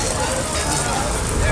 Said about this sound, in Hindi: आग और धुआं हर जानिब फैला हुआ है